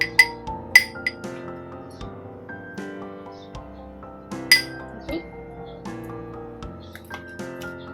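Glasses clink against each other several times as they are set out for a dragon-fruit jelly dessert, with sharp, close chimes scattered over steady background music.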